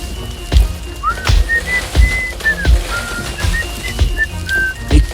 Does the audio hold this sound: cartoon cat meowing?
no